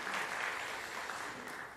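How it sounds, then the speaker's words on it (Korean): Church members at a Korean Sunday worship service clap to welcome newly registered families, a soft, even wash of applause from a gathered congregation that fades slightly toward the end. "박수로 환영하겠습니다"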